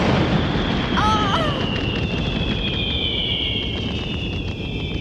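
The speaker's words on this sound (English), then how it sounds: "That's what I call fireworks." A loud, continuous rumbling blast with a high whistling tone sweeping across it, like fireworks bursting nearby.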